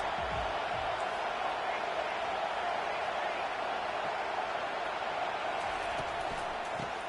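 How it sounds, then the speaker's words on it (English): A college football stadium crowd roars steadily and continuously, a dense wall of cheering noise urging on the defense, with no distinct voices standing out. "Listen to this crowd just shaking the girders of this place, trying to help their defense."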